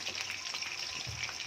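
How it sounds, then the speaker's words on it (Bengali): Potatoes fry in hot oil in a pan in a home kitchen, giving a steady, dense sizzle and crackle throughout with no talking. "আলু ভাজা চলছে"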